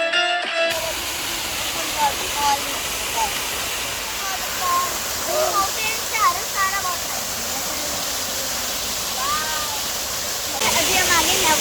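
A waterfall at Wolmido Park in Korea roars as a steady broadband rush of falling water, with birds chirping faintly above it and a brief shift near the end.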